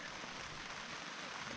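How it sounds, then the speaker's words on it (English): Steady rain pattering on a surface in the Cataloochee area of the Smoky Mountains, a dense continuous hiss, fairly faint and even throughout. "Hopefully this rain slacks up a little bit."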